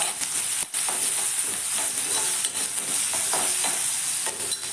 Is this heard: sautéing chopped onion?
yes